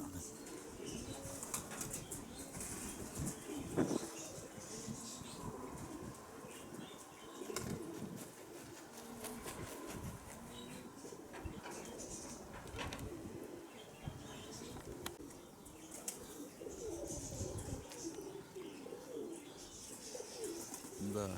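Pigeons in a breeder's loft flap their wings and coo in a steady, busy background, with bursts of wingbeats and soft calls throughout, while a person talks now and then.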